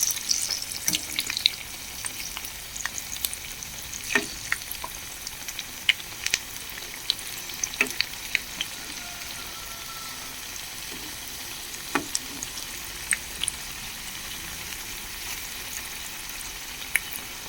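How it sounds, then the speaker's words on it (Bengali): Oil sizzles steadily as chana dal fritters fry, with scattered sharp pops and crackles over a constant frying hiss; no one talks. "এবার আমি অন্য পিঠটা ভাজার জন্য এগুলোকে সব উল্টে দেবো।"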